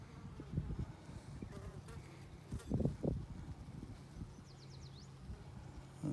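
Honeybees buzz steadily around an open hive during an inspection, a soft continuous drone with occasional louder passes from bees flying close.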